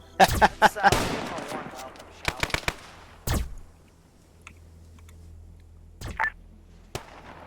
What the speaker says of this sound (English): this guy's, you know, firing up at him with the minigun